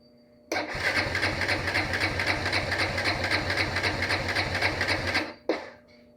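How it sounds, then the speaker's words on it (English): A Yamaha Raptor 660 ATV with a water leak cranks over for about five seconds, a loud rhythmic starter churn that never catches, then cuts off abruptly into quiet. "Let's turn the gas on and see if it will turn over and start"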